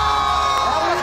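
Excited crowd cheering and whooping at a fake McDonald's giveaway of free food, a short dense burst of shouting voices with little clear clapping.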